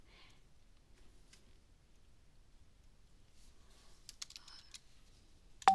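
Quiet, sparse keystrokes on a computer keyboard, a few soft taps early and a short cluster of clicks toward the end, close and faint with no talk.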